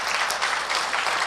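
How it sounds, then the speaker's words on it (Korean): Congregation at a Korean church service clapping together, a loud, continuous burst of many hands that fills the whole moment. "박수 한번 하세요."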